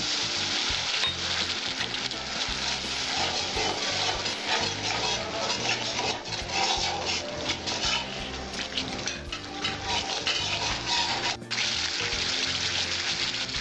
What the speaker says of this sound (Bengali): এবার আমি একটু জল দেবো এর মধ্যে